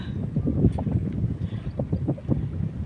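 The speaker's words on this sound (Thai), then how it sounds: "ก็ลมแรงนะคะ" Strong wind buffets the microphone outdoors beside rice fields, producing loud, gusty rumbling bursts that rise and fall.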